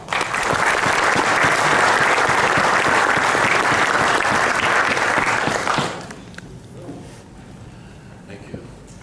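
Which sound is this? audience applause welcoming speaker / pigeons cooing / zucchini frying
audience applause welcoming speaker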